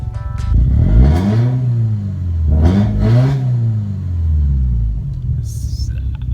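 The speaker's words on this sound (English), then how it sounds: "I'm gonna give you guys a few revs just so you can see what the car sounds like" A Subaru WRX engine revs up and down several times nearby, a deep rumbling roar rising and falling in pitch.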